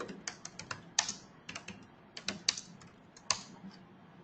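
Quick, uneven bursts of keystrokes on a computer keyboard, crisp and close, with short pauses between clusters of taps and no voices.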